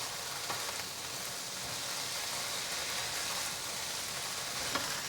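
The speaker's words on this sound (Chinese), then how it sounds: "把调味料炒匀，" Glass noodles and king oyster mushrooms stir-fried with salt, white pepper, sugar, vegetarian oyster sauce, soy sauce and black vinegar, producing a continuous close frying hiss with faint scraping, no talking.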